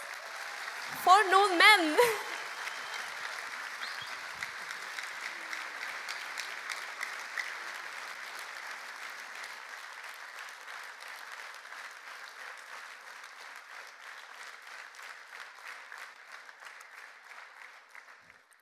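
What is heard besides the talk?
audience applause at Christmas concert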